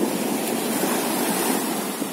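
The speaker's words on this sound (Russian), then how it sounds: "Но волна такая, что страшно, честно говоря." Rough surf breaking on a nearly empty beach at Golubitskaya on the Sea of Azov, a steady loud roar of churning waves with some wind noise and no voices.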